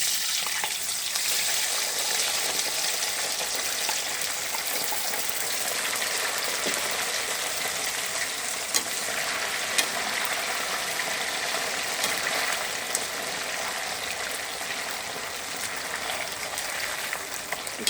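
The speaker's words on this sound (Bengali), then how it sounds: "এখন আমি একই তেলে সে আলু চিপসগুলো দিয়ে দিব, যেটা কর্নফ্লাওয়ার দিয়ে মাখিয়ে রেখেছিলাম সেটা দিয়ে দিচ্ছি" Potato chips coated in cornflour fry in hot oil, giving a steady, dense sizzle and crackle that runs unbroken throughout with no talk.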